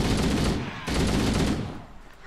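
Rifle fire in the video game Halo CE Anniversary, two dense, loud bursts of rapid shots back to back, filling the moment with no talk.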